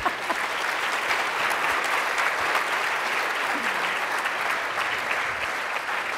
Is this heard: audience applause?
yes